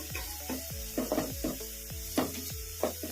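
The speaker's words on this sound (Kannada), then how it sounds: "ಈ ಅಲ್ಲ ಬೆಳ್ಳುಳ್ಳಿ ಪೇಸ್ಟ್ ಹಸಿ ವಾಸನೆ ಹೋಗೋವರೆಗೂ ಒಂದು ನಿಮಿಷ ಫ್ರೈ ಮಾಡ್ಕೊಂಡ್ಬಿಡೋಣ" Garlic paste fries with onions in a pan while a spoon stirs, with regular scraping strokes about every half second riding over a continuous close sizzle and a faint background hum.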